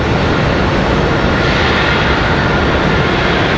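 A Cirrus G2 Vision Jet on final approach at stormy Raleigh-Durham International Airport produces a loud, steady broadband jet roar that fills the whole stretch without letup.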